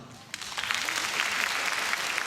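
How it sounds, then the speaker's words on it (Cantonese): A stand-up comedy audience breaks into clapping after a short quiet pause. The applause swells quickly and holds as a dense, steady patter of many hands. "拍手。"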